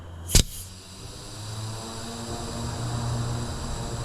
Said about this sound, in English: Noisy aeroplanes today.